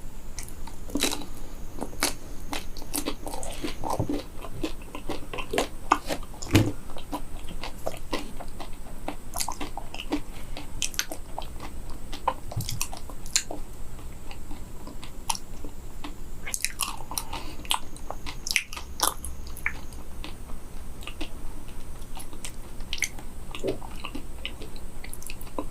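Frozen banana coated in a crispy shell being bitten and chewed close up, with repeated crunches and moist squishy chewing over a quiet background; no talking.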